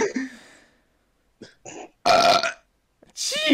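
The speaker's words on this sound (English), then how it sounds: "Get ready for the burp!" Several loud, close burps in quick succession, each a raspy croak, with short gaps of silence between them and a long, drawn-out belch to finish, given during a Discord voice chat.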